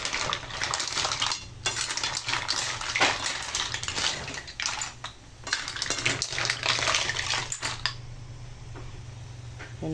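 Fresh mussels being stirred in a pot with a little broth and water spinach, shells clattering and scraping against the metal in busy, continuous bursts, fairly close, before the clatter thins out near the end.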